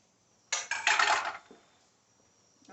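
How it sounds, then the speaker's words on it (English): A metal pot is set into a kitchen sink after boiling pasta, giving a short burst of clanking and scraping that fades quickly, followed by a faint knock; no one talks. "So I'm going to put that in the sink."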